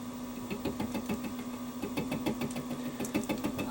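A Warco WM16B milling machine runs at 400 RPM, a steady close mechanical hum with a light rhythmic clatter, alone with no talk.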